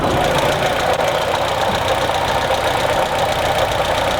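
A 1976 BMW 2002 engine runs steadily at idle, a continuous, fairly loud mechanical drone with a slight rhythmic knock throughout and no talking.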